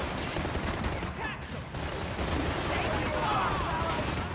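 Rapid, dense gunfire in the shooter game Max Payne 3 fills the scene, with overlapping bursts and volleys that are loud and sustained, mixed with other game noise.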